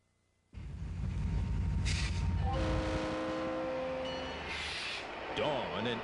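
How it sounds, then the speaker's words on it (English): A freight train rumbles loudly past at close range after a quiet start, with a low, steady roar and squealing, ringing metallic tones over it, in Emeryville, California, at dawn. "Teenage Lisa is about to hop her very first freight train"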